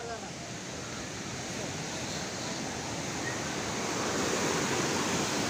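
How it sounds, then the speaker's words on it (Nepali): A swollen mountain stream rushes in a dense, steady roar close by, growing slightly louder, with some wind buffeting the microphone. "अहिले चाहिँ खोला बढेछ"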